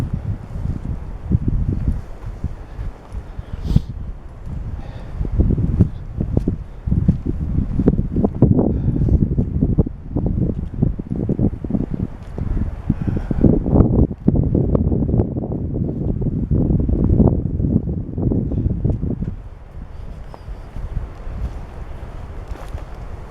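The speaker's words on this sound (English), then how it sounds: "Now the wind seems to be dropping a little bit here." Gusty wind blows outdoors around a newly pitched tarp, rumbling and buffeting close to the microphone in uneven surges, then easing to a lighter, steadier rush near the end.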